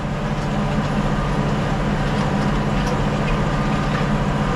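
A New Holland T6.160 tractor runs at a steady 1800 rpm while pulling a Rolmako U436 cultivator in the field, a loud, continuous diesel drone with low rumble and mechanical clatter, close and unchanging throughout.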